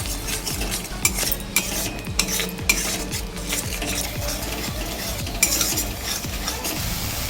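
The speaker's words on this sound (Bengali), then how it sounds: "খুব ভালো করে মিশিয়ে নেব, মিশিয়ে একটু কষিয়ে নেব।" Salt and half a spoon of Kashmiri chili powder being stirred into spices in a hot pan while preparing an egg and tomato curry: continuous scraping and clinking of a spoon against the pan over a steady sizzle, with a few sharper knocks.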